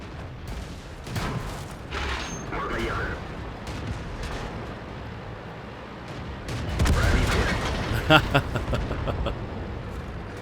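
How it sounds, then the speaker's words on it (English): Tank cannon fire in World of Tanks, shells striking a turret: several sharp booms and gunshot-like cracks scattered across the clip, with a louder cluster of impacts near the end over steady battle rumble, and a voice talking over parts of it. "One guy shoots me in the back of the turret"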